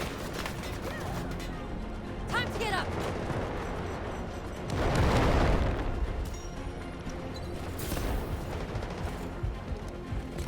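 A loud, deep explosion booms midway through a busy stretch of battle noise in Delta Force, with scattered gunfire-like cracks around it.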